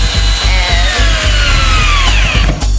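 A power drill whirs and grinds as a screw bites into a wooden wall stud, with a steady rhythmic thumping underneath and a whine that sags as it slows.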